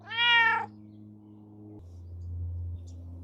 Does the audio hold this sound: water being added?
no